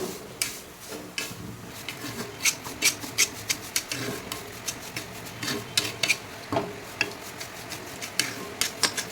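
Semolina roasting in a pan on the stove as it is stirred, giving a close series of scraping, rustling strokes with light clinks of the spoon against the pan, irregular but continuous, with no voices.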